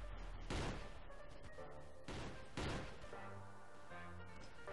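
Shotgun blasts in a stickman fighting video game, a few sharp bursts spaced apart over a steady background game soundtrack, fairly quiet overall.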